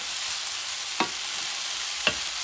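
Chuck steak fried rice being mixed in a hot pan, giving a continuous bright sizzle with two distinct scraping stirs about a second apart, close and moderately loud, with no voices.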